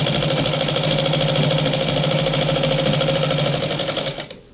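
Sewing machine stitching along the edge of a petticoat, a steady fast close whir with a continuous rhythmic motor hum that runs unbroken before stopping abruptly near the end.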